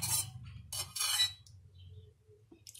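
A metal spoon clinks and scrapes against a pot while homemade desi ghee is added to vermicelli: a few bright, close chinks up front, then a quieter tail.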